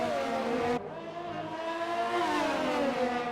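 GP2 race cars in a Brazilian Grand Prix video game roar down the start-finish straight, loud engines droning continuously, one shifting pitch as another car passes.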